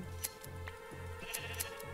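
Sheep bleating in Minecraft, a few repeated synthetic bleats over a steady game background, fairly faint and with no talk.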